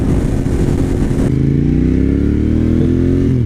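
A Suzuki TL1000R motorcycle with 150,000 miles accelerates hard, its loud V-twin engine roaring and rising in pitch through a gear change, recorded close and without voices.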